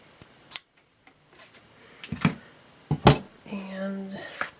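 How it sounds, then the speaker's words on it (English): Ribbon scissors snip through a piece of green ribbon, a few short, crisp cuts spread out over the clip, close and fairly quiet, with light handling noise between them. "let me grab my scissors. These are my ribbon scissors."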